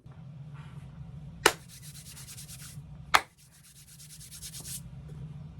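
Brush strokes scrubbing oiled suede uppers of Alden Indy boots, with rapid rhythmic back-and-forth rubbing in two long bursts, each set off by a sharp knock, close up with no voices.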